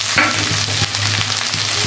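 Sliced ivy gourd (kundri) sizzles with onions in a hot oiled pan, a steady broadband frying hiss with periodic stirring clatter, close and fairly loud with no talking.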